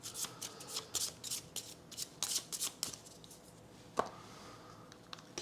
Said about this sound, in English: shuffle this card back into the exhausted deck